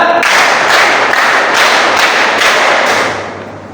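A classroom of students claps hands together on command, a dense, loud burst of group clapping that pulses in a steady rhythm for a few seconds before tailing off.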